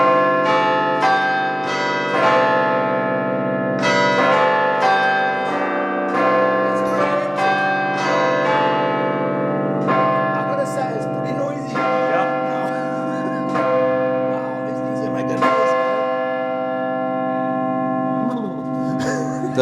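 Carillon church bells commissioned in 1925 as a First War memorial in Cape Town ring out in a steady melodic sequence of resonant, overlapping tones with long sustained decay, loud and close throughout with no talking.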